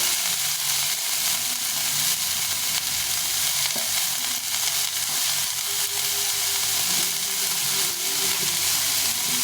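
Gourd peel fries with potato and onion in a pan, giving a steady, close sizzling hiss with occasional stirring scrapes and no voices.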